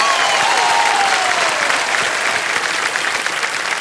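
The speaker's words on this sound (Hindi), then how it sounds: "ताली बज जाए इनके लिए" Studio audience at a TV quiz show set breaks into steady, full applause, dense clapping filling the room from start to finish with a faint whistle-like tone early on.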